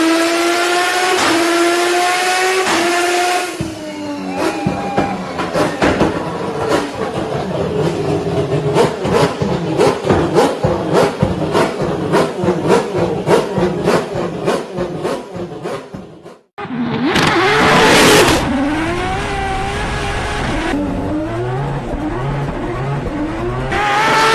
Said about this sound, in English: let's just take a listen to the all new rotary powered P1 GTR drift car.